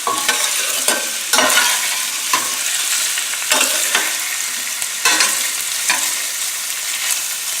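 Sausages frying in a pan over a moderate to high flame, a loud continuous sizzle broken by repeated scraping stirs at a steady rhythm, close and without voices.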